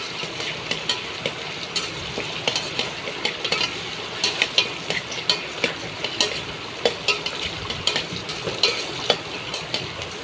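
Ingredients for a Mangalore-style prawn and dry fish curry are stirred and sizzling in a hot pan, a steady frying hiss with repeated scraping spoon strokes, close and loud, no talking.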